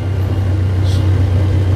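Loaded Nichino IE 250 farm carrier, hauling 400 kg, with its engine droning steadily while climbing a steep slope, a constant low rumble throughout with a faint brief hiss in the middle.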